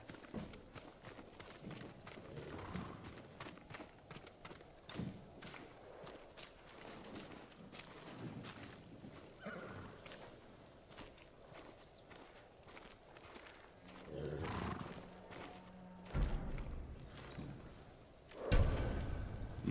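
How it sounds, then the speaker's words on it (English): Hooves clip-clop on hard ground as a samurai horse in Ghost of Tsushima walks and then trots, with occasional snorts and louder thumps near the end; no talking. "They're samurai horses."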